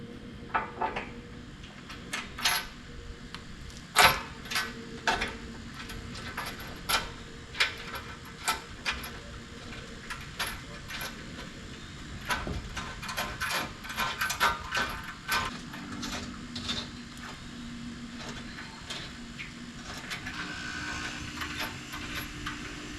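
A hand ratchet tightens bolts while parts are fitted onto a Jeep TJ during comms and recovery upgrades, producing quiet, intermittent bursts of rapid clicking separated by short pauses and light metallic handling noises.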